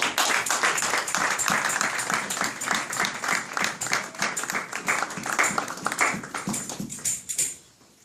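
A church congregation at a Sunday service applauds, a dense and lively patter of many hands that holds steady for several seconds before fading quickly at the end.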